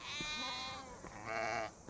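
Sheep bleats in a farm setting, a wavering, harmonic bleat followed by a second, brighter bleat, close and fairly loud with no talk over it.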